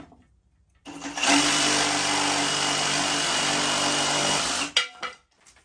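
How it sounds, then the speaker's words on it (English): A Sawzall reciprocating saw starts up and cuts steadily for a few seconds, a loud buzzing rasp close by, then cuts off abruptly with a few faint clatters afterward. "I could get the right tools out to do this, but we're just gonna sawzall it."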